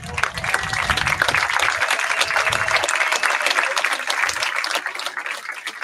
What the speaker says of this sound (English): If everyone can stand up and give them a round of applause